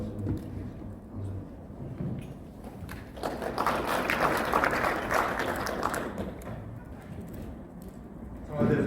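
Applause from an audience at a church association's general assembly, a broad wash of clapping swelling for several seconds mid-clip, with speech-like murmur around it.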